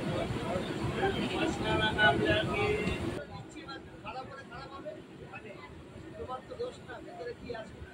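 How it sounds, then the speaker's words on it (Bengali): Local train on the Barasat–Hasnabad line pulling out of Kazipara station, a low rumbling run heard from inside the carriage, louder and busier at first then quieter, with passengers chatting in the background. "ট্রেন এখন ধীরে ধীরে কাজীপাড়া স্টেশন ছেড়ে বেরিয়ে যাচ্ছে।"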